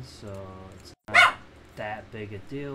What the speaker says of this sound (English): That's my dog, I'm sorry.